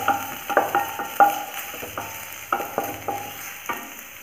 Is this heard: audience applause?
no